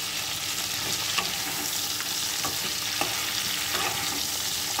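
Prawns fry in a pan for a Bengali prawn curry, a dense, steady sizzle filling the background while a utensil scrapes and taps softly now and then, close and continuous without talk.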